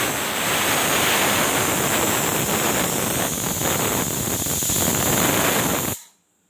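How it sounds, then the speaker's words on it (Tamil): A pressure cooker cooking chicken kurma whistles in a long, loud, steady hiss of escaping steam that holds for about six seconds before cutting off abruptly into quiet. "2 விசில் வந்துடுச்சுங்க."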